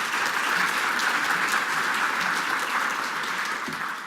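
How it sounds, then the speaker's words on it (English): Sustained applause from a club meeting audience honoring eight candidates, steady and fairly loud clapping throughout, fading slightly toward the end. "So another round of applause for all 8 of them."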